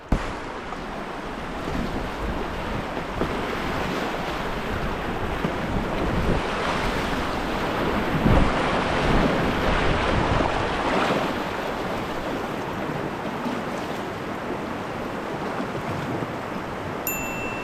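Whitewater on a North Carolina river pours over a rock ledge during a kayak descent: a steady, broad roar of rushing water with wind buffeting the mic, continuous and loud throughout with no voices.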